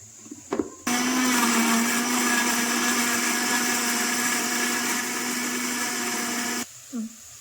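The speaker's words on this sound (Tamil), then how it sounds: "இந்த தக்காளியை கட் பண்ணி ஒரு மிக்ஸி ஜாரில் போட்டு இப்போ நான் இதை பேஸ்ட் பண்ணி எடுத்துக்கிறேன்" A mixer grinder whirs loudly and steadily for several seconds, blending tomatoes into paste in a jar, starting abruptly and cutting off, with a few faint clicks before and after.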